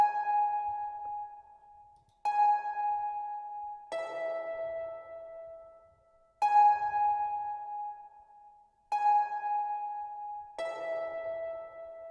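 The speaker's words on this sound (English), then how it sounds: "this is Fruity Convolver, which is a really fire stock reverb VST" A Flex harp preset runs through Fruity Convolver stock reverb with the wet level raised, six plucked notes blooming into long washy tails that blur together, alone with no voices.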